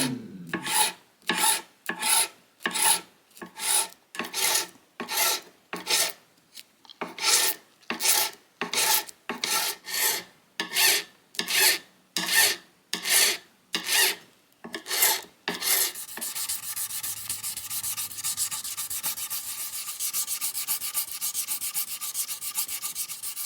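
A file crowns the frets of a 1935 Martin D-28 guitar in regular back-and-forth strokes, about a dozen and a half close scraping passes, before giving way to a softer continuous hiss with no talking.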